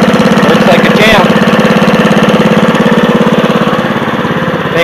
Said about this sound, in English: the old trusty Lincoln welder here. The big old Kohler engine on her.